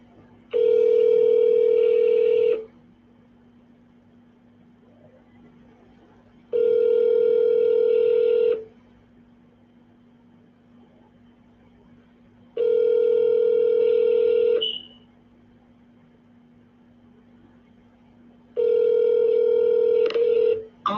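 Telephone ringback tone to an unanswered mortgage company line, four long steady rings about two seconds each separated by roughly four-second gaps over a faint low hum, with no talking.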